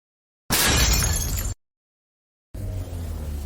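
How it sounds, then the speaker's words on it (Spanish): A pane of tempered glass shatters in one loud, sustained crash of breaking fragments. A brief silence follows, then a quieter rush of noise. "¿Por qué se rompió el vidrio? Es vidrio templado."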